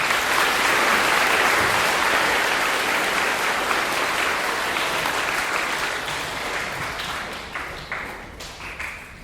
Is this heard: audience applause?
yes